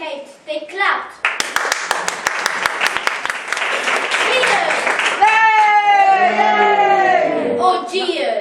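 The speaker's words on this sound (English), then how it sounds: "They clapped." A school audience at a Year 5 Shakespeare mime of Julius Caesar claps in a burst of sharp, quick hand claps. The clapping gives way to children's excited cheering and calling out, loud and close.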